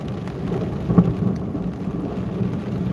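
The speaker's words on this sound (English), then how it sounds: "This thing is full of lightning. You can probably hear it, the thunder." Deep, continuous rumble of thunder from a thunderstorm over central Illinois, with a slightly stronger roll around the one-second mark, steady and moderately loud with no voices.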